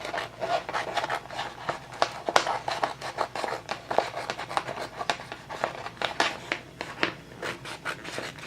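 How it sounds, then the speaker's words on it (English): Scissors snip and crunch through thin vinyl in quick, irregular cuts close by, with rustling between the snips. "using my Cricut scissors, I'm just gonna cut around it."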